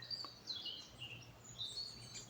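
Birds sing in short, bright chirps and trills over a quiet low background hum, faint and somewhat distant, with no voices.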